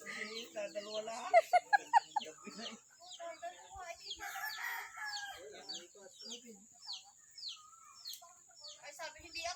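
Chickens cluck in a quick burst of sharp calls near the start, then keep up scattered clucks and squawks, with people talking nearby.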